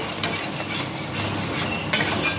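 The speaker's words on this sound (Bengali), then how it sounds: "দেখো মশলা কষছে, তেল ছাড়ছে।" Spice paste with red chili powder frying in oil for a Bengali festive lunch, giving a dense, continuous close sizzle with faint stirring scrapes.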